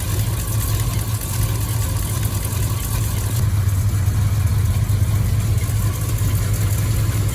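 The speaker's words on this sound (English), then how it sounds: "Right, the engine's now warmed." Triumph Stag engine idling with a suspected blown head gasket, a close, steady low rumble with a constant mechanical hum and no talking.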